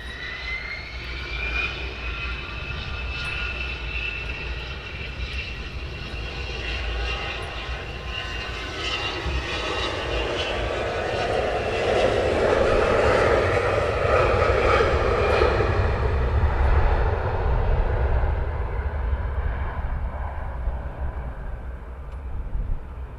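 An airliner departing Luton Airport builds into a long, loud jet roar with a rising whine, swelling to a peak midway before easing slightly, with no voices over it.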